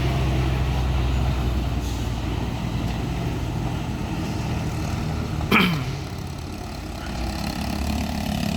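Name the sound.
Fuso intercooler truck straining uphill on slippery road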